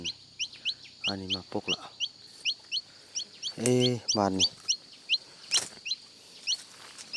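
Chickens and a rooster at a rural Thai home, with a hen among them, clucking and calling in repeated close, loud bursts while bird chirps tick steadily in the background; someone speaks briefly over them.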